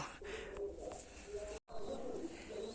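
Kalshira and Kalojira Napta pigeons cooing softly in repeated low, rolling calls against a faint background hum, with a brief dropout midway.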